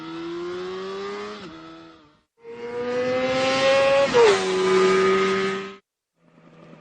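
Yamaha R6 racing motorcycle on a track, engine screaming at high revs in two long passes, pitch dipping briefly as it shifts, then fading before a short burst returns at the end.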